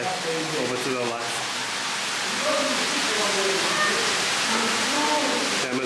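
Steady broadband rush of a water feature flowing on a mini golf course, continuous and fairly loud throughout, with voices chatting over it.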